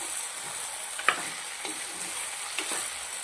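Vegetables and spices are stirred in a hot pan, giving a soft, steady sizzle with a couple of faint spoon taps and scrapes, close and fairly quiet, with no talking.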